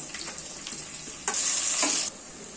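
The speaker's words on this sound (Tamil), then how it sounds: "வெங்காயம் நல்லா வதங்கிடுச்சு." Sliced onions sauté in a pan with a soft, close sizzle and a few light scrapes of stirring, and a brief louder burst of hiss in the middle.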